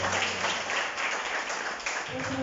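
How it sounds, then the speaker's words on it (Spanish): Students and audience at a high school Independence Day event applauding a correct answer, a short burst of mixed clapping that runs steadily for a couple of seconds. "Muy bien, un aplauso."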